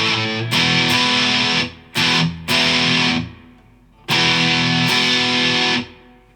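Electric guitar on the bridge pickup strumming open chords through heavy distortion: loud, thick sustained chords in separate bursts, a short choppy pair in the middle, each ringing out and fading into silence.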